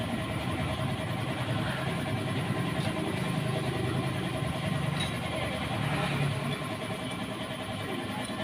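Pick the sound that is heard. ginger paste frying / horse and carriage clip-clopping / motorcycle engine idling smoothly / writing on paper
motorcycle engine idling smoothly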